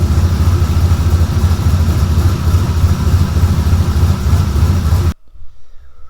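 An Outlaw off-road buggy's engine idles through its exhaust, a deep, steady rumbling drone heard up close that cuts off abruptly near the end, leaving near silence.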